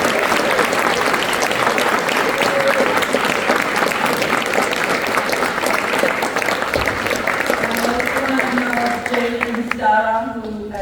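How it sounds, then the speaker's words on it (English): An audience gives sustained applause for a women's college basketball team, dense continuous clapping filling the room at high volume, tapering slightly near the end as a voice cuts in. "can we please stand up so everyone can give them a huge round of applause"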